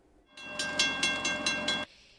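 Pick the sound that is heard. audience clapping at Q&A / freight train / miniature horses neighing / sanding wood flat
freight train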